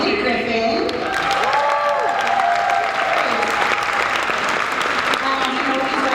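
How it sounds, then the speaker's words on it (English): An audience at an end-of-year faculty meeting applauds newcomers, with steady dense clapping throughout and voices and talk mixed underneath. "So if you guys could just kind of stand up and wave so that we can give you a moment of applause."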